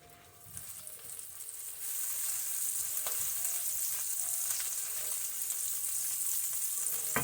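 Collard greens frying in a pan over a flame turned up high, a steady broadband sizzle that swells after the first two seconds and holds loud and continuous, with occasional faint clicks.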